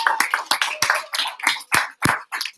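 Applause at a pub trivia night in an Irish pub: a brief run of steady, close hand claps.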